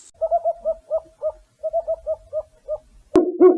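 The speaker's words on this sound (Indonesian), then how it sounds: "Ini adalah burung hantu." A repeated series of soft, low hooting calls, an owl calling steadily at close range, followed by a brief louder burst at the end.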